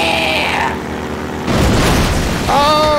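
A loud explosion booms in the Half-Life 2 video game, a broad rumbling burst that holds for about a second amid game noise, followed by sharp tonal effects, with a voice exclaiming nearby.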